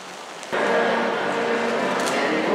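Rain patters steadily at the cruise ship landing area in Ketchikan, Alaska, a close, continuous hiss of drops on hard surfaces that grows louder after a brief rustle.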